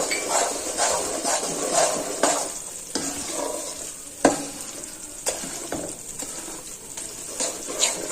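An adadiya mixture with cardamom powder is stirred in a pan after the flame is turned off. There is a continuous sizzling hiss with spoon scrapes and clicks, close up and without speech.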